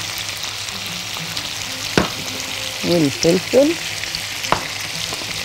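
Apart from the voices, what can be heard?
stirring frying potatoes and vegetables in a pan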